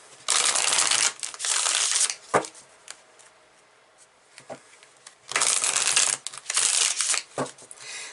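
Chakra Wisdom Oracle cards being shuffled by hand, several loud, close bursts of riffling and papery rustling separated by brief quiet gaps and a few soft taps.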